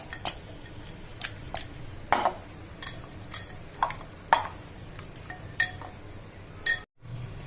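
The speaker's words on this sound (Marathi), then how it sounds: "हळद टाकतोय एक चमचा आता हे मिक्स करून घेऊ" Raw mutton is mixed with turmeric and salt, with a spoon giving sharp, separate clinks and scrapes against a metal dish every half second or so. The sound is quiet and close, with no talking.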